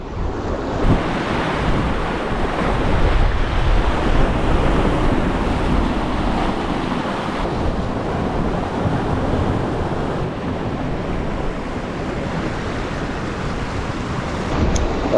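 Sea swell and wind around a boat while mackerel fishing in winter, a constant loud wash of waves with heavy wind buffeting the microphone throughout and no talk.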